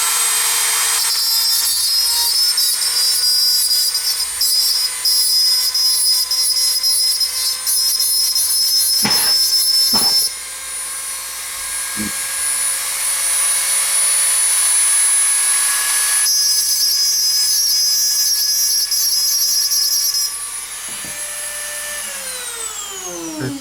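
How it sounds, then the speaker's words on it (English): Metal grinding removes the burr from the axle end of a Tootsie Toy delivery truck: a loud, sustained high-pitched tool whine with a brief pause midway and a spin-down at the end. "Got to remove the burr on the end of the axle."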